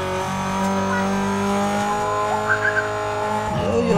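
A car races at high speed in the Need for Speed Most Wanted video game, a loud sustained engine whine with rising pitch and a brief tire squeal near the end.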